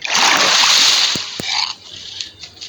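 A boat sinking in the Minecraft video game sends up a loud burst of splashing water that rushes for about a second, then fades into a few small, quieter splashes.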